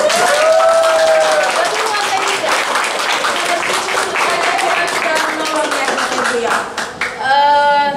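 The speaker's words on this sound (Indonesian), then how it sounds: "Mari berikan tepuk tangan secara meriah" A church congregation in the newly inaugurated Grace hall of GKKAI Banjarmasin bursts into dense, sustained applause, many hands clapping close and loud for several seconds before it tapers off, with a voice briefly heard as it ends.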